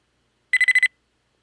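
Five quick electronic beeps from a video game spider alert in a tight, even burst, bright and clear, followed by silence.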